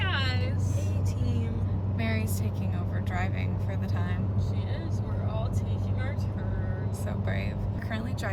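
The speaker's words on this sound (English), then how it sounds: "driving up the mountain" A car drives up a mountain road on the Gatlinburg bypass, a steady low engine and road rumble running beneath almost constant conversation between several passengers.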